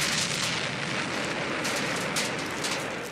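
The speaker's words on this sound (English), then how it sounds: "Then they blow up the grenade. It, you know, makes a fireball and an explosion." A grenade explosion from an Alien movie scene, a fireball rushing through tunnels, plays as a sustained roaring, crackling blast with a dense rumbling wash that slowly fades, loud and without voices.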